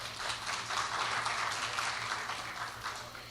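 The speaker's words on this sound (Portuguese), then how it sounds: "uma salva de palmas, por favor" A room full of people applauding, steady dense clapping that holds for a few seconds and begins to fade at the end.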